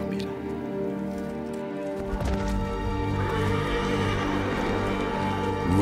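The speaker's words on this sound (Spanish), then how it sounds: "Luego se oyó el sonido de los cascos de un gran número de caballos." Many horses' hooves approach as a rising, dense clatter over a thick layered background, growing louder and fuller toward the end; a dramatic, busy soundscape surrounds the approaching cavalry.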